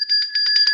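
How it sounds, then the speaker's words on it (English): A bell rings in a rapid series of about seven short, bright metallic strikes over a steady high tone, loud and close. "ring the bell"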